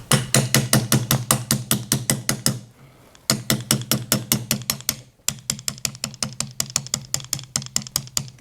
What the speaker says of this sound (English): Next, I'm going to drift out the rear pin from the opposite direction.